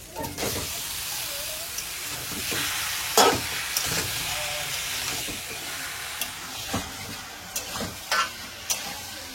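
Onion and chicken pieces fry steadily in a pan with a continuous hiss and sizzle, broken by occasional louder scrapes and knocks of a stirring spoon, close up with no talking.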